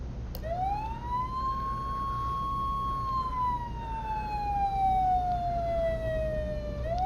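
A single loud fire truck siren tone in a video game, Flashing Lights, rises, holds, then slowly falls, steady and close, over a low engine hum with no talking.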